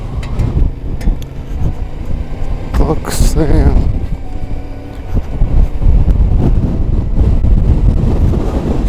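Strengthening wind in the Icelandic highlands buffets the microphone in low rumbling gusts, loud and near, while someone talks over it; a brief higher whine rises in the middle.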